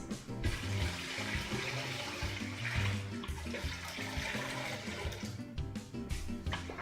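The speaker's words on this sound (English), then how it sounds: "now I'm going to go ahead and add water to this" Water is poured into a turkey brine of spices and mustard in a home kitchen, a continuous splashing, gurgling rush at a steady, fairly loud level for several seconds, with no talking.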